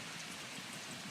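Steady rain falling and running off a hillside onto a newly built driveway, a continuous even wash of drops and trickling water, moderately quiet and constant throughout.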